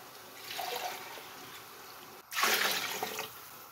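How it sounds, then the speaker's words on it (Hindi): Water poured into a cooking pot while making vegetable pulao, a soft steady splash followed by a louder, fuller pour after a brief pause. "तो ये हम पानी डालेंगे।"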